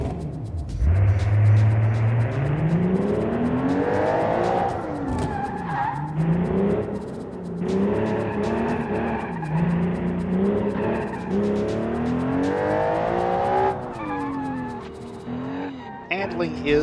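A custom street-tuned Canguro Rosso with wider tires races in the game Automation, its engine revving up and down through gear changes while tires squeal and skid steadily throughout, loud and continuous, with a narrator speaking over it.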